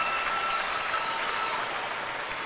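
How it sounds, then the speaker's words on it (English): A college basketball crowd applauds and cheers on senior night at a Big 12 game, Cincinnati against West Virginia: a steady, dense wash of clapping filling the arena at constant loudness throughout. "He told the crowd to get up on their feet and start cheering for John Newman."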